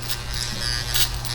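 Electric hair clippers hum steadily up close during a bald skin fade haircut, with crisp bursts of snipping and rasping as the blades cut through hair.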